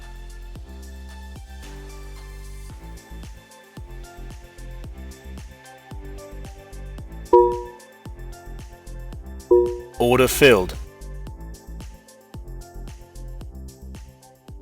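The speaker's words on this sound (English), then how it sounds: "That notification sound you heard was the sound of my brokerage Tradeovate auto liquidating my" Tradeovate brokerage auto-liquidation alert, with a few short bright chime tones sounding under steady background audio, followed by a brief automated voice announcement.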